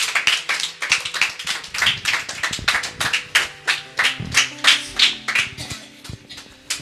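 A church congregation claps steadily in rhythm to acclaim the Lord, loud and close with dense repeated claps and faint voices underneath.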